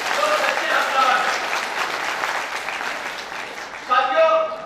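Enthusiastic applause from an audience at a Pasi community gathering, a dense, continuous patter of many clapping hands that swells, fades slightly, then rises again near the end with a voice speaking over it.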